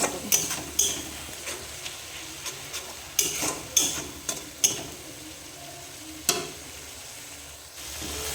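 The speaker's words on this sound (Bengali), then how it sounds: "আর একটু লাল লঙ্কার গুঁড়ি ভালো করে কষিয়ে নেব মশলাটাকে" Spatula scraping and tapping in a pan while spice masala with turmeric and red chili powder is sautéed, irregular sharp knocks over a faint sizzle, close and moderately quiet with no talking.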